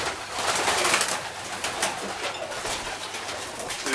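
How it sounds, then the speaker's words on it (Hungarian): Breeding pigeons in a loft coo softly and repeatedly, their low throaty calls overlapping in a steady, moderately close chorus with faint fluttering and background noise, and no talking. "Ezek a tenyészgalambok."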